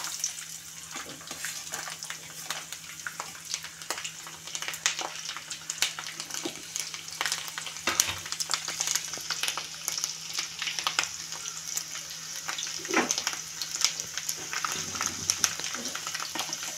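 Garlic and cumin sizzling in hot oil for tomato dal, a steady close crackle and hiss with occasional stirring clinks, no talking.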